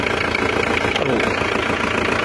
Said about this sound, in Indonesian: Ini masih kita proses untuk proses pemanasan mesin, nanti baru kita cek untuk kompresinya